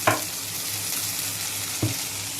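Noodles sautéed in a pan for spicy noodles hiss with a steady close sizzle, broken by two short scraping stir strokes at the start and near the end.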